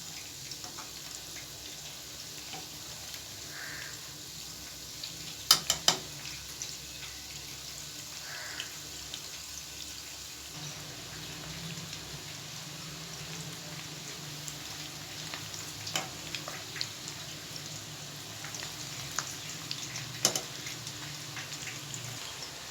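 Keto chicken tikka bites cooking on a medium flame give a faint, steady frying sizzle over a long stretch, with occasional soft pops and clicks and no voices.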